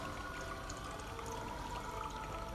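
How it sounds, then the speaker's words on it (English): Water pours steadily out of the oil catch can on a Nissan Skyline R32 GTR, a continuous close splashing stream with no breaks and no speech. "Let's see what comes out of my catch can."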